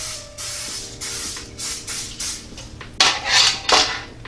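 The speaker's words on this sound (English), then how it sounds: "now I'm going to go ahead and spray this baking pan with some cooking spray." Cooking spray hisses from an aerosol can onto a baking pan in a series of short and longer bursts, loud and close, with faint metallic clinks between sprays.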